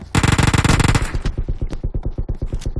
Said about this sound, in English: Ape hears the gunfire.